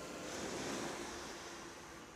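Sea waves washing onto a beach at night, a steady broadband surf wash that swells slightly and then eases, with light wind noise and no talking.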